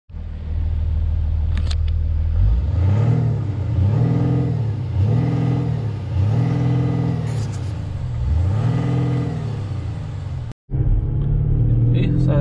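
An Audi A7 3.0 V6 Biturbo Competition engine is revved repeatedly, giving a loud, close rising-and-falling rumble in even pulses. The sound cuts out briefly near the end and then resumes at idle.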